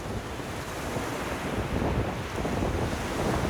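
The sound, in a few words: strong wind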